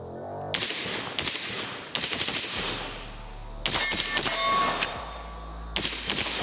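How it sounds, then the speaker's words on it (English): A suppressed 5.56 AR-15 rifle fires about five sharp, loud shots at uneven intervals, each with a metallic ring and decay, and no voices in between. "Yeah, just take a couple shots with this real quick."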